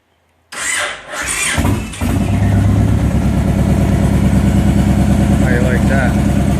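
A 1992 Yamaha TDM 850 motorcycle engine is started with the button, cranking briefly before catching and settling into a loud, steady, close idle.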